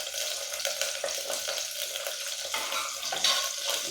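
Cauliflower florets fry in hot oil with a soft, continuous sizzle and light bubbling crackle, fairly faint and close, with no talking.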